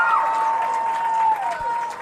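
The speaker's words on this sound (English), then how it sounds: "the DeHannis crowd is pumping them up" A home crowd at a Class 1A state championship softball game cheers and applauds in a steady, loud wash, with voices and whistles mixed through the noise.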